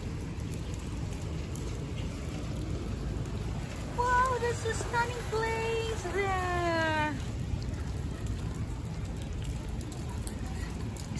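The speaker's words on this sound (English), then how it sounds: "After the rain, it's still drizzling." A light drizzle falls at Alys Beach, Florida after rain, giving a soft, steady hiss under a person speaking briefly midway.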